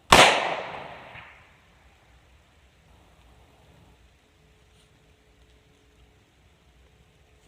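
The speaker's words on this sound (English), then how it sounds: "shooting a Remington 1858 Army conversion, a replica made by Uberti" A single loud, sharp gunshot from an Uberti replica Remington 1858 Army conversion revolver on an outdoor shooting range, with a decaying echo trailing off into near silence.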